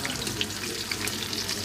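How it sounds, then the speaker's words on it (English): Battered sweet potato pieces frying in hot oil make a soft, continuous bubbling sizzle with small crackles, fairly quiet and steady. "go through the whole lot of sweet potato and fry them all up"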